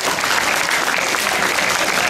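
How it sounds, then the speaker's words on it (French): An audience at a comedy festival show bursts into loud, sustained applause, a dense wash of clapping from a large crowd with no pause. "je vous demande de l'applaudir très fort"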